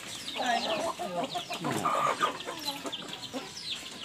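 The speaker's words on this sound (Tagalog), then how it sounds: "Yung manok natin dito." Several chickens cluck and chatter close by on a small farm in quick, overlapping bursts, with a few higher squawks and no talking.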